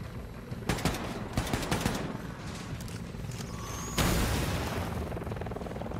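Enemy gunfire in Wolfenstein 2 rattles in rapid repeated bursts over a dense, noisy battle soundscape, with a heavier blast near the end sustaining loud, close combat noise.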